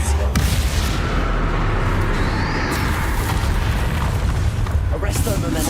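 Spell explosions in the Hogwarts Legacy video game, a loud continuous roar of blasts and booming impacts with crackling bursts throughout.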